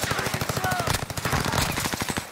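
Rapid automatic gunfire in a shooter video game, a fast rhythmic burst of loud, close shots running nearly nonstop for a couple of seconds.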